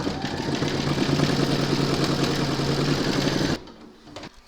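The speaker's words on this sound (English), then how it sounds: "Pop your hoop into your machine and stitch round number 2." An embroidery machine stitches an in-the-hoop keyring tag with a steady, fast, close mechanical whirring and pulsing for several seconds, then stops abruptly and leaves faint handling noises.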